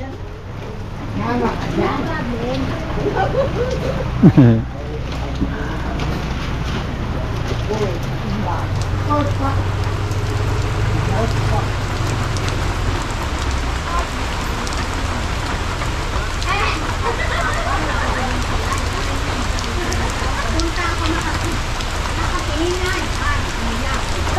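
Steady rain falls on a Christmas day in Tanawan, a constant close patter on surfaces heard under people talking throughout.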